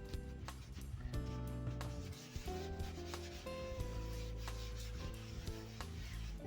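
A homemade embossing buddy is rubbed across card stock, making quiet repeated rubbing and scraping strokes with some tonal squeaks, heard alone with no talking.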